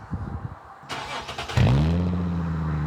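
A 1951 Ford's engine, its carburetor freshly adjusted, cranks briefly and then catches, settling into a loud, steady idle close by.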